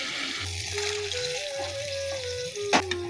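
Water used to rinse ground spice paste is poured into a cooking pot for a potato, cauliflower and rohu fish curry, a steady close trickling splash running throughout with a brief clatter near the end.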